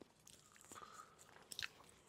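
Crunching bites into a chocolate biscuit, a few crisp crackles standing out close to the mic with a sharp burst near the end, over a faint background.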